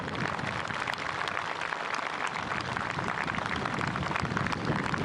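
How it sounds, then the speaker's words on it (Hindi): Dense, steady applause from a large outdoor crowd at the Navy Day 2023 ceremony in Sindhudurg, Maharashtra, greeting marine commandos landing. The clapping blends into a continuous, even wash, heard fairly far off, with no talk over it. "आपकी तालियां रुकनी नहीं चाहिए दोस्तों"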